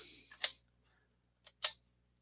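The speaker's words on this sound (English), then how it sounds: "You just go back and forth on the shutter." Shutter of a manual Kodak Brownie No. 2 box camera worked back and forth, two crisp close mechanical clicks about a second apart, each with a faint lighter tick near it, in a quiet room.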